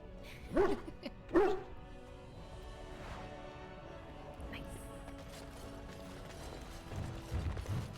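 A dog barks twice in a fantasy role-playing game, Dragon Age, the sharp barks close and clear, followed by quieter game ambience, mechanical clicks and some low background sounds.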